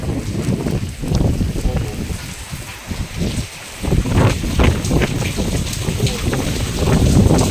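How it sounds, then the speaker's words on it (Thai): Strong gusting wind during a rainstorm roars and buffets the microphone, rising and falling, while someone talks through it in Thai. "ลมแรงครับ"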